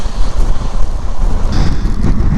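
Gusts of near-80 mph storm wind from Storm Darragh batter a microphone outdoors in the Lake District, a loud, dense, unbroken roar with buffeting low rumble throughout.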